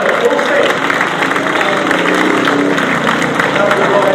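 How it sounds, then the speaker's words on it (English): Speedway crowd at the British Sidecar Speedway Championship final at Belle Vue, cheering and applauding the riders; a steady, dense roar of clapping and voices fills the whole stretch, with a commentator talking over it. "Give a cheer"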